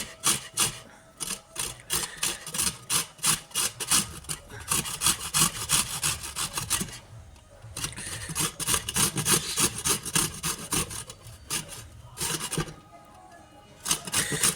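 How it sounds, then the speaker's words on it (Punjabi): Beetroot rubbed against a kitchen grater, producing fast rhythmic rasping strokes up close, with a brief pause midway before the steady scraping resumes; no talking. "ਚੰਗੀ ਤਰ੍ਹਾਂ ਕੱਦੂਕਸ ਕਰ ਲਓ"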